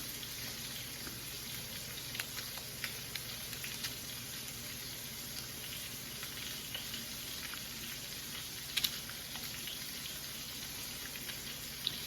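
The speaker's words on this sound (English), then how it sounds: "You can hear it sizzling." A steady, even sizzle of meat frying in a pan with fresh herbs, with faint crackles and tiny pops scattered throughout, no talking.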